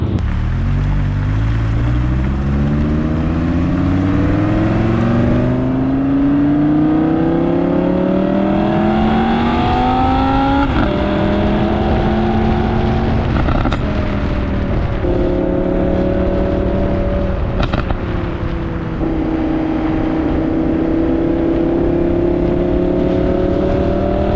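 An Audi R8 V10 Plus with a straight pipe exhaust roars loudly through rising gears, the engine note climbing, dropping at each shift and climbing again, close and constant with no talking, while driving in snowy Utah spring weather.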